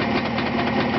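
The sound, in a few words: rebuilt motorcycle engine running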